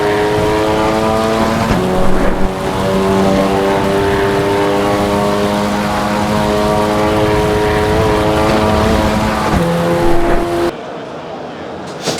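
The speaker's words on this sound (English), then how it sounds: "Oh, you're hitting the puddles. You can hear it when you hit the puddles." A racing car engine in a video game drones steadily with shifting pitch, broken by a few brief splashy bursts as it runs through puddles on a wet track.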